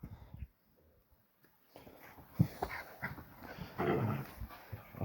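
A young shepherd dog whimpers, pants and gives small yips close by, restless and intermittent, after a brief quiet start.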